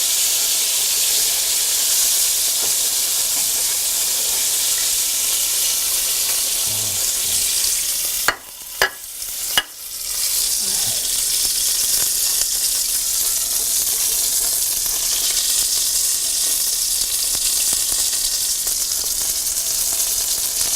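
Fatty meat sizzles loudly and steadily in a pan, a dense close hiss that cuts out briefly midway with a couple of clicks, then resumes unchanged.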